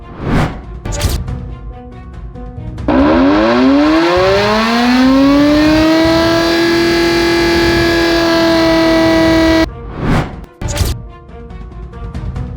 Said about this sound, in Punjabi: ਸਾਡੇ ਕੋਲ ਇੱਥੇ ਜਿਹੜਾ ਸਾਇਰਨ ਹੈ